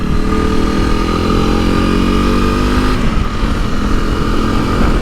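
Honda CRF 300 Rally motorcycle engine running loud and close on a ride in Wales, a steady mid-pitched drone with a brief shift in revs partway through.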